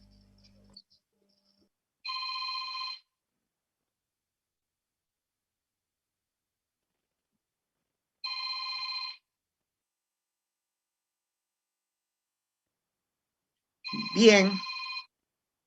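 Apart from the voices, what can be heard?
telephone ringing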